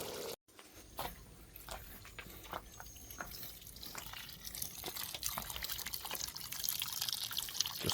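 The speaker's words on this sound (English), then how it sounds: "Just washing the carrots and the potatoes." Carrots and potatoes washed in water, with sloshing, trickling and dripping at a steady low level that grows slightly busier toward the end, heard up close with no talking.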